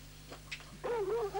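A dog whimpers in a high, wavering whine that rises and falls in a sustained cry after a few fainter soft sounds, set against a low steady background.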